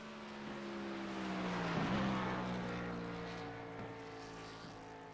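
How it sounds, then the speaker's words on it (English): A race car runs a qualifying lap at the Las Vegas racetrack, its engine droning loudly and steadily as it swells past and shifts pitch, with no voices over it. "Next qualifier up here in just a second once Logan Ikra makes his way off the racetrack."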